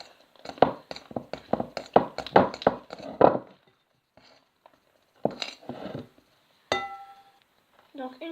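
Spoon scraping and clinking against a bowl while edible slime is mixed, a rapid run of light taps and scrapes at first, then scattered clinks after a pause, fairly quiet and close.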